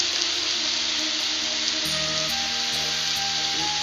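Ginger garlic paste sizzles steadily and loudly in a hot pan for egg bhurji curry, a dense continuous frying hiss with no talking.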